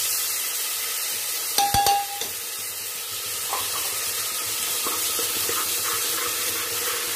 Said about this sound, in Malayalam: നമ്മൾ വഴറ്റിക്കൊണ്ടിരിക്കുക.